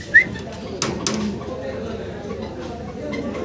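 Lahori pigeons coo in a loft, with soft, low coos and a brief sharp chirp near the start, mixed with a few clicks and nearby human talk.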